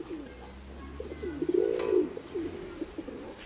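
Young pigeons in a loft give a soft, rolling coo that swells for about half a second near the middle, with faint bird sounds and low background hum around it.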